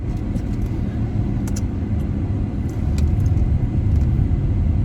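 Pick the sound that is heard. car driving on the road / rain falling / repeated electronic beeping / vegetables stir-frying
car driving on the road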